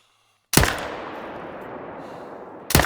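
A single hunting rifle shot from theHunter: Call of the Wild cracks sharply and close, then rolls off into a long fading echo across open terrain, and a second report begins right at the end.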